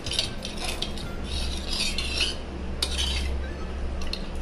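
Amchur chutney mix being stirred into water in a steel pot, with close scraping and clinking of a utensil against the metal sides, steady throughout with no talking.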